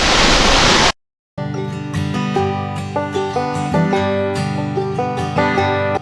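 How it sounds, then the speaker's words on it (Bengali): Hamham waterfall roaring in a loud, dense rush of falling water that breaks off abruptly, followed by music after a short silence. "এই ঝর্ণাটি দেখার জন্যই আসলে এত দূর থেকে এত কষ্ট করে ছুটে আসছি"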